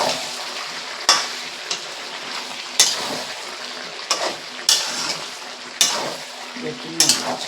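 Village-style desi chicken curry being stirred in a pan, with a spatula scraping and clacking roughly every second over a steady background sizzle, heard up close with no talking.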